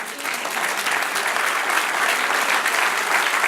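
A church congregation applauds during a sermon, a dense, steady roar of many hands clapping together that holds evenly for a few seconds.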